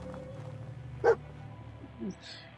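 A dog barks once in the Fallout 4 game world, a single short bark standing out over a steady low background hum, followed by a faint softer sound.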